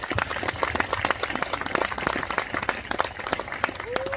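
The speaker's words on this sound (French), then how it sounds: "j'aimerais qu'on donne une belle main d'applaudissement à Stéphane" Conference audience applauding the inventor Stéphane, scattered and fairly faint clapping with individual sharp claps standing out, brief and somewhat sparse, with a short voice or tone near the end.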